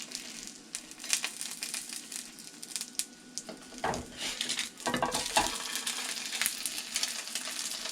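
An egg fries in a pan while being pressed flat with the yolk broken, a crackling sizzle with scraping and squishing pushes from a spatula, growing louder toward the end.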